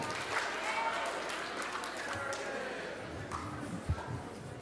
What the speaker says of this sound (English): we can do another round of applause